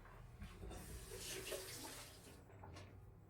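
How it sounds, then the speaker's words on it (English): Running tap water splashes steadily into a sink as a kitchen knife is rinsed, a continuous close hiss and patter lasting a few seconds with no talk. "I'm just going to rinse it off and put it away."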